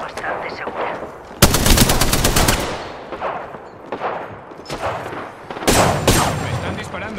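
Gunfire in the video game Apex Legends: sharp, loud bursts of rapid automatic shots in two volleys separated by quieter stretches, with a voice talking in between.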